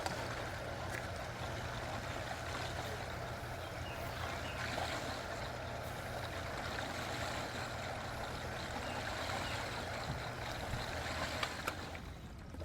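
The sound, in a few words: Aquastrong 2HP dual speed pool pump running and priming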